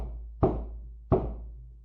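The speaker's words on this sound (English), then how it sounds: "a loud knock at the door woke me up" Two loud, sharp knocks on a door, spaced well apart, each with a short decaying ring, heard alone against a low steady hum.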